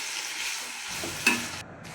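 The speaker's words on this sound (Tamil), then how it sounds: "இப்போ இந்த பாகக்காயை போட்டு நல்லா வதக்கிடணும்" Bitter gourd sautéing in a pan, a steady broadband sizzle with one brief stir or scrape, heard alone.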